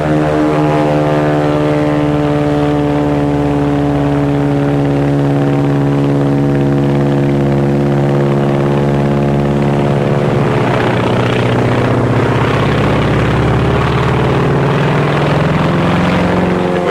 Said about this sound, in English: That's a Zero, the real McCoy.